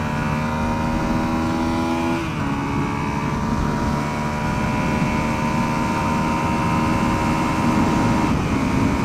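Honda CRF250L dual-sport motorcycle engine droning steadily at about 70 mph, a loud continuous hum with a brief shift in pitch early on, alone with no talk.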